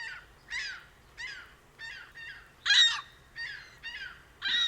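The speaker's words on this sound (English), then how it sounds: "in third place, ring-billed gulls" Ring-billed gulls give a series of loud, harsh squawking calls, about nine separate bursts in a steady rhythm, fairly close and standing out over quiet background.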